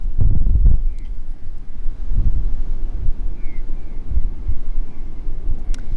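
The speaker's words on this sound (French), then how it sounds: "J'espère que le vent n'est pas trop fort." Steady low rumbling buffets of wind hitting the microphone, gusting throughout with no clear voices.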